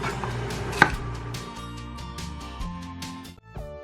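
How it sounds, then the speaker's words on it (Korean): A knife chops raw chestnuts on a cutting board, a few firm separated cuts with one sharp loud knock early, then lighter taps and scraping, no talk. "생밤을 큼직하게 썰어서 넣어줄게요"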